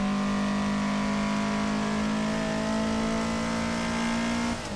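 Toyota AE86 engine holding a loud, steady high drone on a track lap, a constant close-up note that cuts off abruptly near the end.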